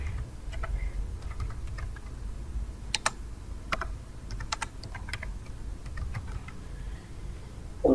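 Computer keyboard typing while JavaScript code is written, a steady stream of light, quick key clicks with a few louder keystrokes, close and continuous, with no talk over it.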